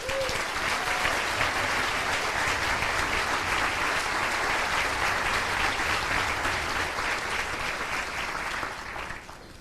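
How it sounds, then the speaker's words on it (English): A large audience applauds District Teachers of the Year at a teacher of the year ceremony, the clapping dense, loud and steady for the whole span and easing slightly at the very end. "Please give a round of applause to our District Teachers of the Year."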